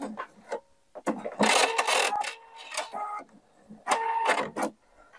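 Domestic sewing machine stitching elastic on hipster knickers, short whirring runs of rapid needle clatter starting and stopping close by, with quiet handling noises between bursts.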